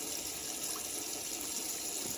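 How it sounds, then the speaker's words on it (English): Water pours from a tap or jug into a pot for hamburger soup, a steady close splashing gush with no talking. "So I'm just going to add enough water to cover."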